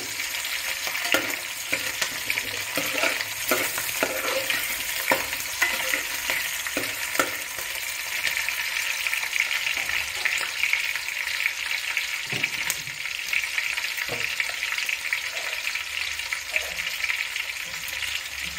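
Onions cut into large pieces frying in a pan for a Nellore fish curry, a continuous bright sizzle with frequent stirring scrapes and taps throughout, steady and close.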